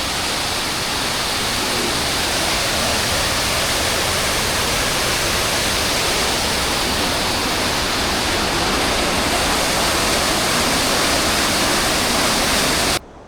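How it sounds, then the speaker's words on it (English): Waterfall near the Inversnaid hotel on the West Highland Way, a steady, loud, close roar of falling water that holds constant without a break before cutting off at the very end. "We've just seen that beautiful waterfall."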